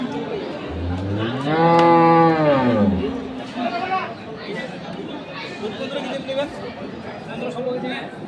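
A dairy cow lets out one loud, drawn-out moo up close, followed by a busy hubbub of people talking in a crowded outdoor cattle market in Thakurgaon, Bangladesh.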